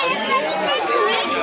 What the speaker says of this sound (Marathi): आज खूपच गर्दी आहे.